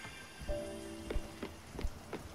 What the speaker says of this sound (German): Oh, dieser Regen. Hört ihr nie auf.